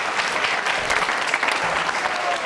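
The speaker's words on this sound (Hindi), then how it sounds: "तालियां जोरदार तरीके से बजनी चाहिए।" Hearty audience applause at a Jain school quiz show on Lord Mahaveer, a dense, steady wash of many hands clapping together, loud and unbroken throughout.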